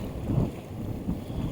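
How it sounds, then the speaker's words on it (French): Wind gusting by the Durance river in the Hautes-Alpes while lure fishing, a loud low rumbling buffet surging and easing across the short stretch, with no speech. "Alors, ce qui est chiant avec ce vent,"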